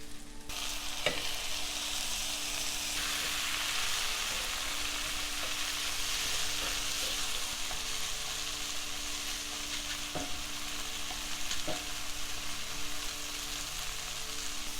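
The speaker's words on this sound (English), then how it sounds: "now I'm going to add the tomatoes" Tomatoes frying in butter with ginger garlic paste for butter chicken, a loud continuous sizzle with a few faint stirring clicks, close up with no talking.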